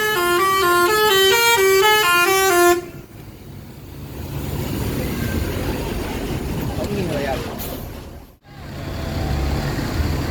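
An intercity bus honks as it pulls into a bus terminal arriving from Bukittinggi: a loud, sustained multi-tone air horn blast of nearly three seconds, then engine rumble and terminal bustle with someone talking over the noise.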